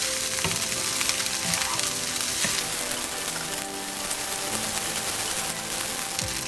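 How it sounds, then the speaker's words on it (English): Egg fried rice sizzles loudly in a pan as scrambled eggs are gently mixed in, a dense continuous crackle with occasional scraping knocks of the spatula, close up and without speech. "Now add scrambled eggs. Mix it gently, do not break the rice."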